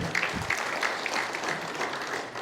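Steady audience applause fills the space in a church gathering led by a bishop, a dense, continuous patter of many hands clapping at an even level throughout.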